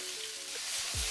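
Cauliflower and potatoes seasoned with salt and turmeric hit hot oil in a pan, giving a loud, steady sizzle with a faint hum and a low stirring scrape near the end.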